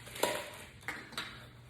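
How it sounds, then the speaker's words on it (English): A camp cooking pot and cutlery for a bicycle tour are handled, giving three light metallic clinks and clatters spaced apart over a quiet background. "I have my camp kitchen in here, which is a pot,"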